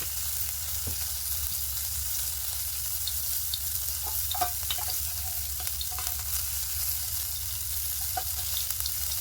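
Magur catfish fry steadily in mustard oil with a continuous broad sizzle, sharpened by occasional crackles and pops near the pan. No one speaks.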